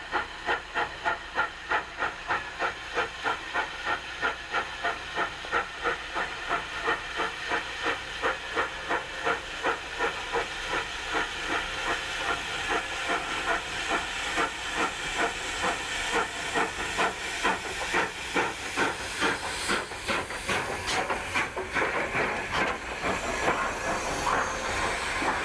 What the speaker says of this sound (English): After a brief stop, the big K-36 eases out, headed for the famous High Line.